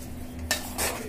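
Ghee is mixed by hand into a cheesy beef and potato chop mixture in a bowl, giving two brief squishing, scraping bursts against a quiet kitchen background with no talk.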